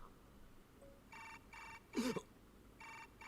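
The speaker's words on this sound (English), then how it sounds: "What's that phone? I almost jumped at the sudden noise." A smartphone rings in the visual-novel game Chaos;Child, giving repeated short electronic trill bursts in a regular pattern. A brief voice-like sound cuts in partway through, then the ringing goes on.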